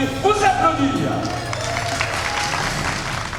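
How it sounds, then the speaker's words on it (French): An audience at a regional assembly applauds together in a steady, dense wash of clapping that holds at an even level throughout, with a voice briefly audible near the start. "vous pouvez vous applaudir"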